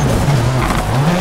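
A VW Polo rally car in the WRC 4 video game skids under the handbrake, a loud, continuous engine drone mixed with tire scrubbing over about a second.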